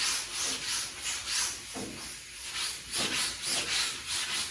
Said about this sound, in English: You can hear the coarseness of the polyester primer